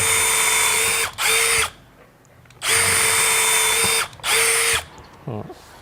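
A PUMA brushless cordless impact drill whines at high speed in two separate bursts, drilling two holes, each broken by a brief pause, with quiet gaps between and a faint ratcheting click near the end.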